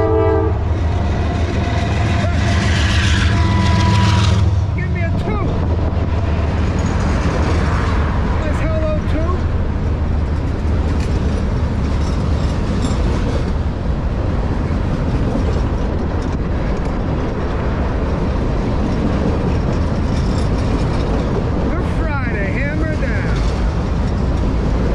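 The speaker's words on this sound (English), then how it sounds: "Norfolk Southern, train 62V, hammer down." A Norfolk Southern freight train with 260 axles rumbles steadily past up close in New Jersey, its horn blaring loudly at the start, wheels clattering continuously over the rails.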